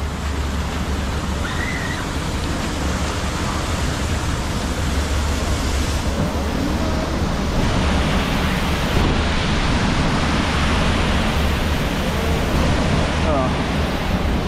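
Waterfall at the Efteling theme park roars as a steady, broadband rush of falling water, loud and unbroken throughout, with faint voices mixed in.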